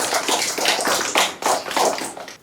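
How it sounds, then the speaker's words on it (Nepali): An audience at a Nepali political gathering breaks into applause, bright irregular clapping that rises and falls in waves and stops abruptly at the end, with no talk over it. "उहाँहरू सबैलाई एकपटक ताली बजाएर"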